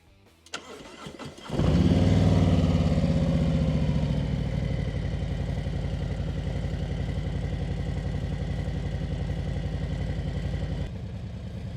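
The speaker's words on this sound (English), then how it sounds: "So let's go ahead and start the bike" A 2024 Harley-Davidson Road Glide cranks briefly, then fires into a loud, close, rumbling idle that stays uneven and lumpy for the rest of the stretch, with no talk over it.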